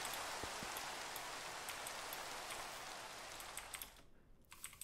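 Steady rain in Minecraft Tekxit 3 makes a broad, even hiss with scattered drop ticks, faint and continuous, then cuts off abruptly near the end, leaving a few isolated clicks.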